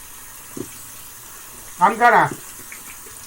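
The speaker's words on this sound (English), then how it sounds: "rinse this stone completely" Water runs steadily over a natural Japanese sharpening stone, a Kiita J-Nat, as it is rinsed clean after honing a blade, a constant close wash with a brief voice speaking over it.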